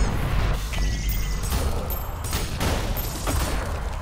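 Dense gunfire and crashing combat noise from the fast-paced shooter ULTRAKILL, with split shots fired during an Act 1 speedrun; a steady, loud barrage of overlapping shots and impacts fills the clip with no talking.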